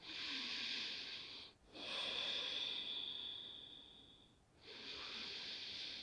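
Yoga breathing, heard as long audible breaths drawn through the nose and mouth, two extended hissing exhalations separated by short quiet gaps, close and steady.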